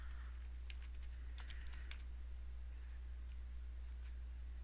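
Brief bursts of keystrokes on a computer keyboard typing a reboot command for a Netgear RT314 router, light clicks over a constant low electrical hum.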